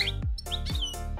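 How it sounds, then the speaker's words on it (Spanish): Real parrots chirping: several bright, sharp chirps and short tweets repeat in quick succession close by, with lower squawky bursts between them. "¡Loros de verdad!"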